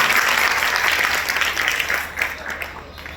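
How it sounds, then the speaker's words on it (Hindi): Loud, sustained applause from an audience welcoming a performer at a folk dance stage presentation, a dense wash of clapping that holds steady and then thins slightly toward the end. "तो ऐसे हमारे बड़े का स्वागत आप लोग जोरदार तालियों से करें।"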